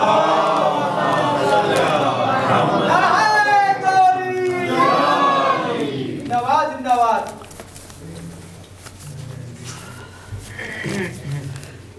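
A large crowd at a Shia religious gathering in Wazirabad shouts religious slogans in loud unison, a rising chorus of voices chanting together, followed by scattered calls and quieter murmuring.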